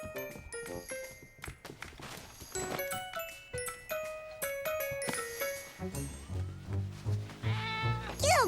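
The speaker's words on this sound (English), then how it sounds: "Silly cat, get out of there!" A cartoon cat meows in short repeated calls among chiming, tinkling jingle effects, followed by a louder wavering cat cry near the end.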